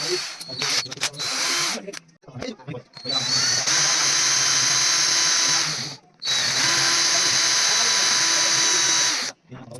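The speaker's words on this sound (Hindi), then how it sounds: "ड्रिल मशीन की मदद से हमारी देसी जुगाड़ से छेद करने" A power drill bores holes into tractor axle parts for a New Holland tractor, a loud, close, steady whine running in long stretches broken by brief stops and short stutters.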